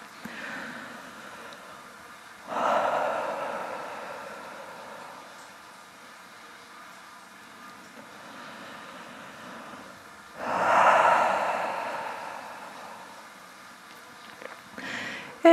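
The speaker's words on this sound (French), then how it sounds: "prenez le temps de respirer par le nez ou la bouche comme vous préférez" Ujjayi breathing through the nose or mouth: two long, slow, hissing breaths with a soft oceanic rasp, close and clear in a quiet room, separated by stillness, with a faint third breath near the end.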